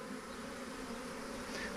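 Steady, continuous buzz of a drone honeybee from a swarm, a male bee held or flying close by, droning without break for the whole moment.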